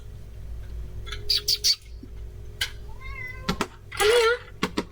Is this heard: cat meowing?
yes